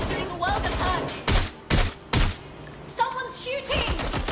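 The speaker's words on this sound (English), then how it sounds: "Shots fired! We've got gunfire!" Bursts of rapid gunfire in the video game Watch Dogs: Legion mixed with sharp single shots and scattered thumps, loud and close, with background noise throughout.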